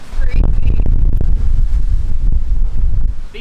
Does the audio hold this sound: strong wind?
yes